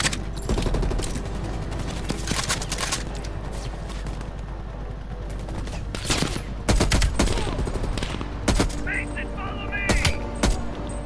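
Heavy gunfire from a Call of Duty Cold War match: repeated loud bursts and single shots crack over a dense, continuous battlefield din, with voices talking throughout.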